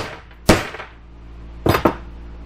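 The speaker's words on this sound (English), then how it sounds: "So we've got my punch and my hammer." Hammer blows on a center punch against metal while building a 10 meter dipole antenna center base mount: one sharp metallic strike, then after a pause two more close together, loud and near with no talk.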